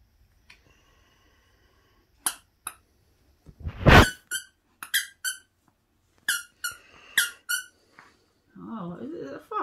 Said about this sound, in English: Squeaky pet toy